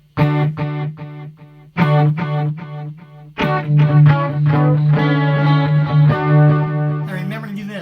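Electric guitar played through a BOSS eBand with a delay effect, bright distorted rock phrases whose notes repeat and trail off in echoes, loud and close with no talking.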